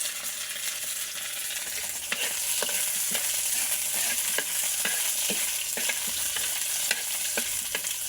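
Onion and ginger fry in a pan under a continuous sizzle, with a series of sharp utensil scrapes and clinks as they are stirred throughout.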